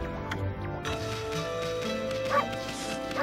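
In the video game Okami, a cartoonish dog yips and barks a few times over a sustained musical score, with a voice talking at points.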